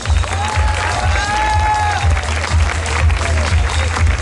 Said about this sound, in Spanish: El aplauso para